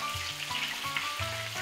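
Flour-dusted beef pieces browning in a frying pan for beef bourguignon, giving a soft continuous sizzle and crackle at low level with no voices.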